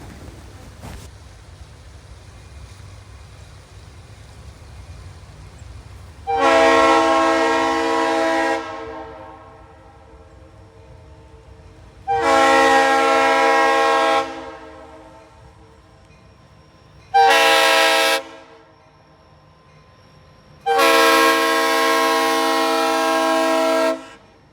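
A train passing on a line in the East Ohio valley sounds its horn in four long, loud blasts over a low rolling rumble.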